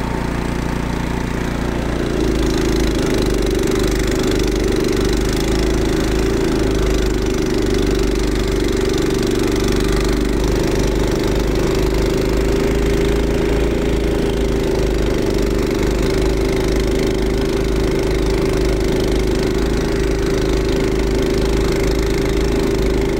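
An Evoline Standard-series two-stage wheeled snowblower engine runs in fourth gear, a loud, steady mid-pitched drone with a constant hum throughout and no pauses.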